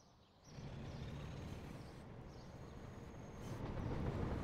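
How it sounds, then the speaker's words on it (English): East Midlands trains running in the railway simulation game Transport Fever, a steady low rumble of rolling stock with faint high squeals and a hiss like air brakes, rising slightly toward the end, no voices. "Two different East Midlands trains."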